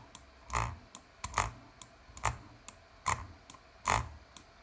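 Redragon M601 gaming mouse buttons clicking close up, a series of about ten sharp, distinct clicks in an uneven rhythm, some doubled, with no talk.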